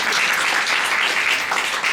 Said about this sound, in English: Panelists, a round of applause for that